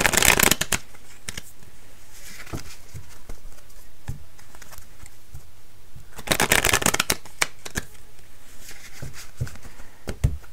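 A Light Years Tarot deck shuffled by hand, with two dense riffling bursts near the start and middle, separated by quieter, scattered card taps and shuffling.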